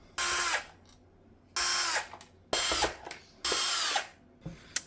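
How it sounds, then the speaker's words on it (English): Power screwdriver backing screws out of an Ecovacs Deebot 950 robot vacuum: four loud, close whirring bursts of about half a second each with short pauses between, small clicks and taps of handling in between, no talk. "There's now a couple more screws to remove."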